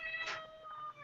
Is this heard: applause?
no